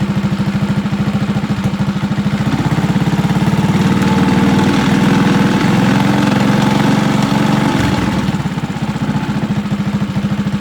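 A small engine on a homebuilt drift trike runs steadily at a rough, buzzing idle, loud and close, rising slightly mid-way before settling back, with no talking.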